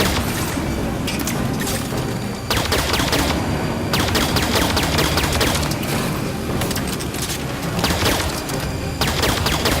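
Rapid bursts of fuel rod gun fire from Halo 5: Guardians, loud and dense, with heavy continuous blasts and explosive booms crowding the whole stretch with only brief dips between volleys.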